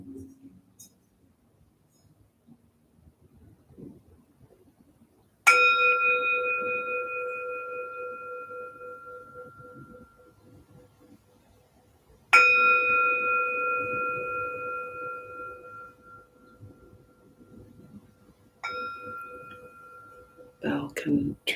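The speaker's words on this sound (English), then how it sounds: "Bell can herald a special transition" A meditation bell rings three times at spaced intervals, each strike clear and bright with a long, slowly fading resonant tone, sounding over near silence with faint soft speech in the gaps.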